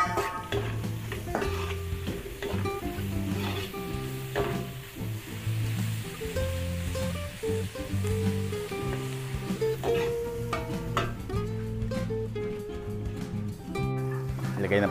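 Garlic and onion sautéing in a pan for Filipino home cooking give off a steady, close sizzle with occasional stirring scrapes, running continuously beneath background music.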